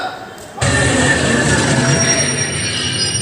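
A train passes loudly at a railway station in Wardha. Its sudden onset becomes a continuous roar of wheels and rail noise with squealing, close and steady to the end.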